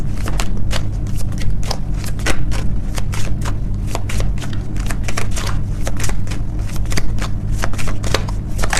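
A deck of angel oracle cards being shuffled for a tarot reading makes rapid, loud riffling flutters and sharp card snaps in a busy, continuous rhythm, close up.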